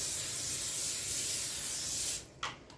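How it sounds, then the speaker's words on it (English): A long continuous hiss of an aerosol cooking spray onto aluminum foil, steady for about two seconds, then stopping with a couple of short bursts. "I am going to spray this."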